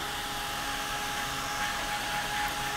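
A hair dryer blows steadily at close range over a thin layer of paint, giving a constant, even whoosh with a faint motor whine and no speech.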